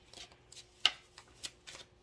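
Tarot cards shuffled quietly and close by, giving a series of soft riffling and slapping bursts with one sharper snap partway through, with no voices.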